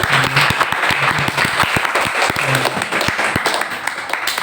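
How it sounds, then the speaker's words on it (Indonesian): Applause for student council chair candidates during a virtual school election debate, a steady wash of clapping from a group that runs throughout at fairly loud level, with sharp individual claps standing out. "Tepuk tangan dulu untuk calon ketua."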